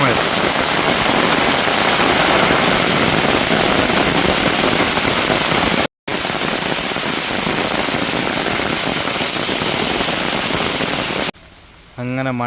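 A heavy summer downpour hammers down in a loud, dense roar, broken by one momentary gap, then cuts off near the end as a voice speaks briefly.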